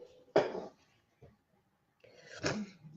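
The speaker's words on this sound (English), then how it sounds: "Just need to blow my nose." Two short, forceful bursts of a nose being blown, close by, separated by a brief pause with a faint sniff between them.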